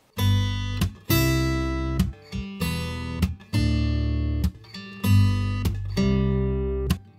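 A mixed acoustic guitar recording with full, solid strummed chords that ring and decay, played in a steady rhythm of about a dozen strums with brief gaps between them and no voice.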